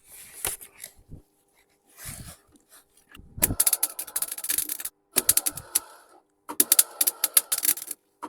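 Tack welding a new rear sill on a rusty car, worked upside down: bursts of sharp crackling arc spatter, several short runs separated by pauses, close and fairly loud with no talk.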